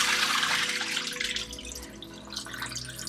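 Tap water running and splashing in a sink while cured ham is rinsed and drained, a continuous close stream with dripping and gurgling, no talk.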